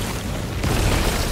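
A bomb explosion in a video game goes off as one sudden loud boom that swells into a rumbling roar and holds for a moment.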